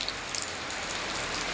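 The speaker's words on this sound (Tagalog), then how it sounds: "Guys, sobrang lakas ng ulan." Heavy rain pours down steadily, a dense, loud hiss of drops on surfaces filling the whole short stretch with no pauses and no voices.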